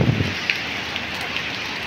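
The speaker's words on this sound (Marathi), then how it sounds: "पाऊस चालू आहे, पाऊस." Steady rain pours down at a roadside stop near a petrol pump on a May evening, a dense even hiss of drops close by with a few louder splashes.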